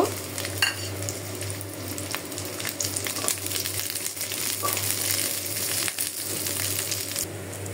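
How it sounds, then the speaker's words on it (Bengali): Garlic frying in mustard oil in a wok, a steady crackling sizzle with occasional metallic clinks and stirring scrapes, close and constant with no voices. "আমি এখন রসুনগুলো ভেজে নিব"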